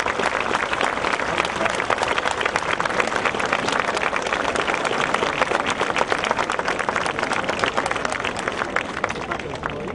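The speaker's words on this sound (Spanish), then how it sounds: "un fuerte y cariñoso aplauso a los 9 regidores que nos acompañan en esta noche" Sustained applause from an audience at a municipal councillors' swearing-in ceremony in Camaná, dense steady clapping with crowd murmur throughout, loud and continuous.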